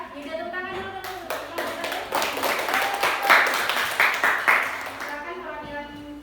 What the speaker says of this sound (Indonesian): tepuk tangan dulu dulu